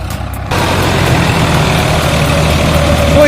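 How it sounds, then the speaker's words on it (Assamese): A tractor engine ploughing a rice field in a village, a steady heavy diesel drone that grows louder after a brief quieter start and holds close and continuous. "পুৰা ট্ৰেক্টৰেদি হাল বাই দি আছে"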